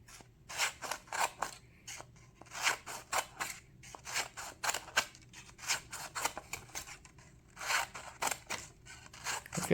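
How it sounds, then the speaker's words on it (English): Scissors snip through old sheet music paper to cut a fringe, a close run of sharp, crisp cuts in quick bursts of several snips separated by short pauses, with no speech. "feels wrong to cut through these"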